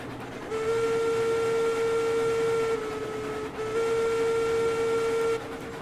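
Steam locomotive in a railroad game sounding its whistle in two long, steady blasts separated by a brief pause, loud and close above a low rolling rumble of the train.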